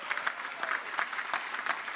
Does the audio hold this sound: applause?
yes